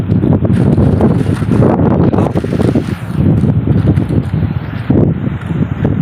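Strong wind on the open sea roars and buffets the microphone without a break, a loud, rough rush of air with no talking.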